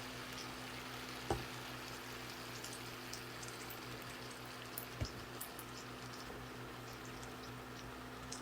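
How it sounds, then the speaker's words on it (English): About half a cup of water poured into a hot pan of cabbage and potatoes gives a steady hissing sizzle, a continuous bubbling crackle with a couple of sharper pops, close by. "And now I'm gonna add a little bit of water."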